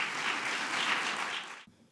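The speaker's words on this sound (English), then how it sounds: "Let's give him a round of applause." An audience applauds steadily at a city council celebration honoring an elected official. The dense clapping stays loud and even, then cuts off abruptly near the end.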